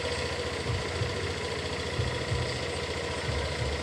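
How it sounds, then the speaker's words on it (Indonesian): A Honda Vario 150 scooter engine running cold with a faulty ECT sensor, prone to sputtering. It gives a steady close idle with low, uneven pulsing throughout and no talking. "Ini motornya hidup"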